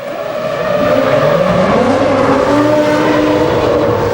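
Formula One race cars from the 2001 season roar past in a steady, loud engine drone with rising and falling pitch sweeps from several cars, with no talk over it.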